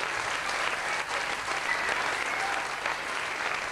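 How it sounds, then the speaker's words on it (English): A ballet audience applauds after the show, a dense, steady wash of many hands clapping that fills the whole stretch at an even, moderate loudness. "everyone in the audience is applauding."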